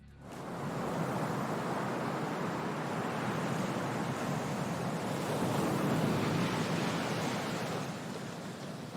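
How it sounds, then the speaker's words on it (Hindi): Waves wash against the Green Bay shoreline in Wisconsin, a steady, full rushing surf that swells gently and continues unbroken throughout, with no voices. "लहरें किसी झील या समुद्र के किनारे से देखने में सम्मोहित करने वाली लगती हैं"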